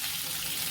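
Two chopped onions fry in hot oil, a dense, even sizzle that stays loud and steady throughout the brief moment with no voices.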